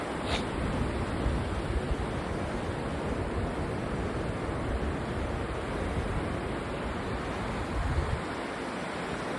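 Waves roar continuously on the sea beach at Cox's Bazar in the morning, a dense, loud wash of surf and breeze that keeps a steady level throughout, with no voices.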